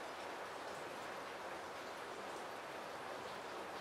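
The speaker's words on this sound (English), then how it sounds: "And the rain is getting heavier." Heavy thunderstorm rain falls as a dense, steady hiss that stays loud and even throughout, with no voices and no distinct thunderclap.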